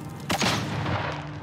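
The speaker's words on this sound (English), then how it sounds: "Alright, flashbang going out." A flashbang grenade bursts in the Modern Warfare campaign mission Fog of War, one loud sudden blast followed by a ringing, hissing wash that fades slowly.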